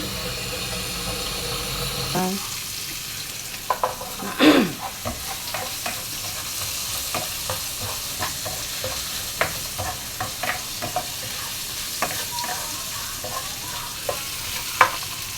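Onion and garlic stir-fry in hot oil, a close, steady sizzle broken by a loud scrape and scattered clinks of the spoon stirring the pan, with no voices.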